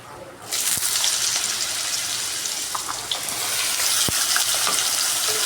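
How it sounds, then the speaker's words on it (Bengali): Diced potatoes fry in hot oil in a wok with cumin, bay leaf and dried chilli: a steady, close sizzle runs without a break, with a few scraping stirs and small clicks and no one talking. "আলুটা একটু ভালো করে ফ্রাই করে নেব।"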